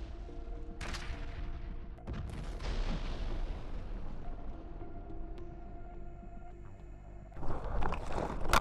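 Soldiers return fire during a close-range clash between Russian and Ukrainian forces near Bakhmut: loud, sharp bursts of gunfire break out in a few separate volleys over a constant low rumble, with a heavier cluster of shots near the end.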